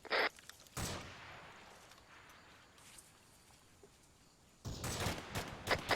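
Gunfire from a defensive emplacement during a British infantry firefight, loud sharp cracks at the start followed by a burst of rapid shots near the end, with quieter outdoor rumble between.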